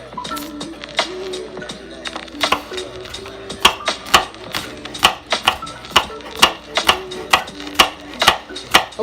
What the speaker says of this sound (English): So I'm gonna just go ahead and chop my green onion up.